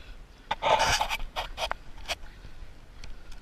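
Ratting dogs on a farm pant hard and close, quick rhythmic breaths with a few snorts and whimpers, with no talk over them.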